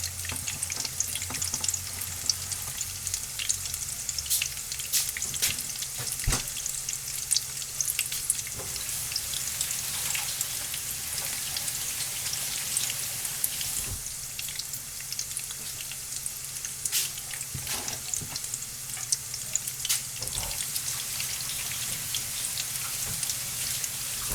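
Crispy potato tacos sizzle in a pan with a steady, close crackle and hiss of hot oil, with occasional sharper pops and clicks throughout and no talking.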